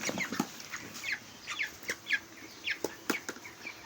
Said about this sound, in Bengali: এই 5টা মুরগি ধরলাম।